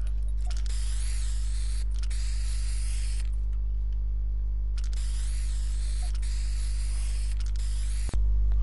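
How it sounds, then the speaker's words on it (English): Spray painting in a video game gives long hissing bursts of spray, two sustained blasts over a steady low electrical hum, followed by a sharp click near the end, with no talk. "I love how it's just spray painting."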